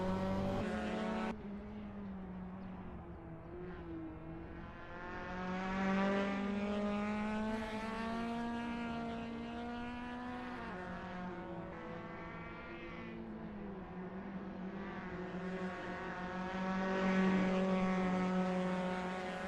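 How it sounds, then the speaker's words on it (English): Race cars in a Nurburgring GT sprint racing video game roar past, a strong whining engine drone that rises and falls in pitch as cars speed by, continuous and fairly loud with no voices. "There's not much better than sitting near here and watching the cars speed by."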